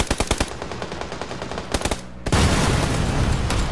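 Gunfire in PUBG, where an M24 sniper rifle is in use: a quick string of loud, sharp shots, a short pause, another cluster, then a sustained noisy roar.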